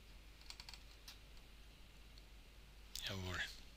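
Rapid light key taps on a calculator come in a quick cluster near the start, faint and close, followed by a brief rising electronic tone near the end.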